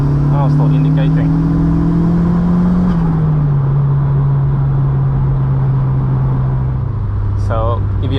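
A Mk2 with a big-turbo 1.8T making 223 kilowatts drives along with a steady engine drone that slowly drops in pitch, loud and continuous inside the cabin, with brief voices and clicks over it.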